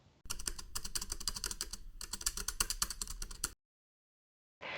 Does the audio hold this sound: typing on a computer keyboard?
yes